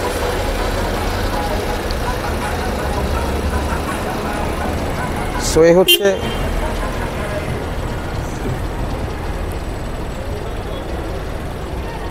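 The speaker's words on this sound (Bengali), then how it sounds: "ইঞ্জিনের সাউন্ডও যথেষ্ট স্মুথ পাচ্ছি" The 1500cc octane engine of a 2012 Toyota Premio idles in a smooth, steady low hum throughout. Someone speaks briefly over it near the middle.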